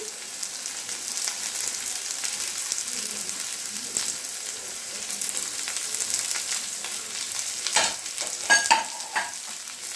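Chopped onion and potato sautéing in a pan for a Spanish omelette: a continuous close sizzle with scraping stirs, growing busier with sharper crackles and clatters near the end.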